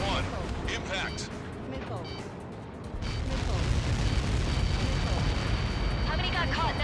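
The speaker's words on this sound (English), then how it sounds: "How many got caught in that explosion?" A large blast from Helios projectiles in the Ace Combat 7: Skies Unknown flight game, a dense rolling rumble that swells around the third second and stays loud under layered engine noise.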